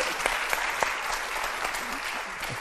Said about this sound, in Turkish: Bir moral alkış alabilir miyim?